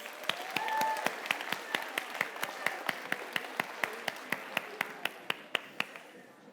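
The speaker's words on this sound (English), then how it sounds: "Give yourselves a round of applause." Audience applause at a student literature conference, starting as a broad wash of clapping and then settling into a slow, steady unison clap with sharp, evenly spaced beats, fairly close and loud.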